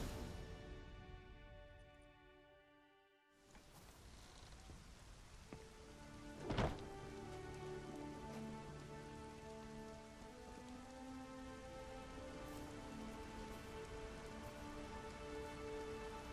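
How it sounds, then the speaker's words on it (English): Steady heavy rain hisses continuously in The Witcher 3: Wild Hunt, with a brief dip and a sharp thud partway through, and a faint low hum beneath. "Rain in fucking buckets."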